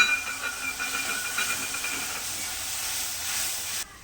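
Water poured into a hot pan of poppy-seed paste with panch phoron, ginger and chilli, for a ridge gourd posto, gives a loud steady steaming hiss and sizzle that holds without pause, then drops off abruptly near the end.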